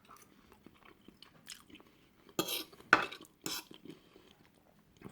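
Lidl fresh ravioli being cut in half with cutlery on a plate: quiet scraping and soft taps, then a few sharper bursts of knife and fork clinking against the dish, spaced unevenly.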